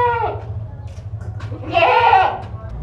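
A two-tooth male goat at a livestock sale bleats twice, a short call followed by a louder, longer one, close by, with a low engine-like hum and people talking in the background.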